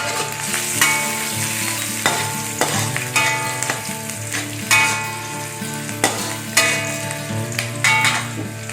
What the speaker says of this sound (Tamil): வெங்காயம் இந்த மாதிரி வெந்துட்டு இருக்கும்போது பூண்டையும் போட்டுருவோம்